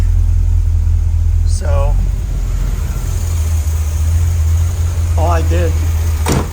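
A car engine fitted with a Quadrajet carburetor idles steadily at about 800 RPM, a loud, constant low hum close by, while someone speaks briefly over it.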